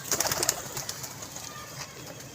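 A golden pigeon at a pigeon club gives short, close cooing calls and light flutters in a quick burst at the start, then fainter scattered sounds, with no voices.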